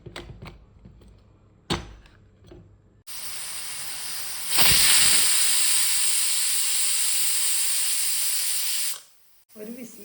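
A pressure cooker cooking cucumber dal curry lets out a loud, sustained hiss of escaping steam lasting several seconds, preceded by a few clinks and faint kitchen noises.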